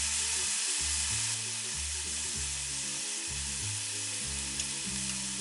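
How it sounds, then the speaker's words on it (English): Onions sizzle and fry continuously in a hot pan, a dense close hiss with low tonal hum underneath and no speech. "I'm going to saute those onions."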